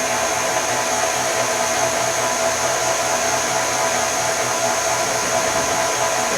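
A stand mixer beats yellow cake batter at high speed, a steady, dense whirring hum that holds unchanged throughout with no pauses and no talk.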